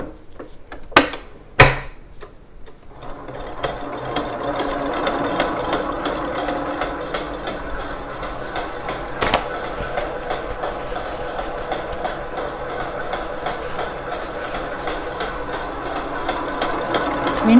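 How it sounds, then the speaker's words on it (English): An electric mixer whirs continuously as it whisks egg whites toward stiff peaks, a steady mechanical buzz following a few sharp clatters at the start, fairly quiet and with no talking. "We need to whisk the egg white till stiff peak."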